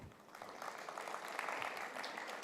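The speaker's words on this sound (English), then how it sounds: "give yourself a round of applause" Applause from a conference audience at a local content and green growth event, a steady dense patter of many hands clapping at moderate distance, fairly faint and sustained throughout.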